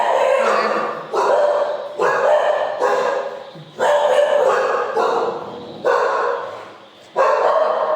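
A dog barks repeatedly in loud, regular bursts about a second apart, close by, with no talking.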